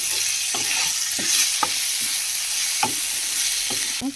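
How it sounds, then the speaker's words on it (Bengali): Taro flowers cooking in a pan are stirred, giving a few sharp scraping strokes at irregular intervals over a steady close sizzle of frying, with no voices. "ঢাকনাটা খুলেছি এবার একটু নাড়াচাড়া করে নেব"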